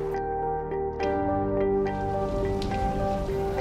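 Rain pattering steadily on surfaces in the jungle with scattered louder drops, alongside a continuous tonal hum in the background; no talking.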